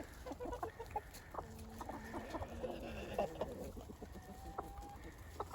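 Free-ranging hens, a purebred layer among them, cluck softly and intermittently at close range in a quiet outdoor yard, several birds overlapping with short calls.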